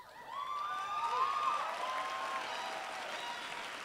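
Audience applause and cheering at a college commencement ceremony, a broad wash of clapping rising quickly, with a whistle cutting through before settling into steady applause.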